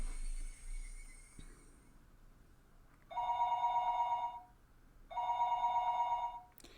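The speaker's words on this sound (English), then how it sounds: "The phone rang for the 3rd time." A telephone rings in two long electric bell bursts, each lasting around one and a half seconds with a short gap between them, clear and fairly close in a quiet room.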